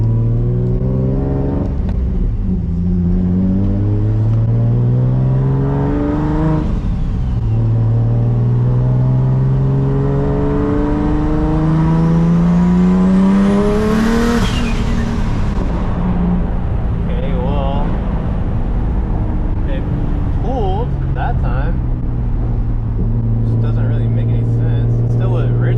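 Nissan 350Z with a turbo and a faulty boost controller driving and accelerating, engine droning and climbing through the revs in long pulls with shifts between, interior perspective, a voice talking over it.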